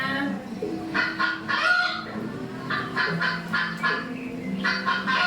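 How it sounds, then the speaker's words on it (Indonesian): A recording of chickens played back for an animal-sound guessing quiz: repeated clucks and squawks arrive in short bursts with pauses between, moderately loud and clear. "Iya, ini suara ayam."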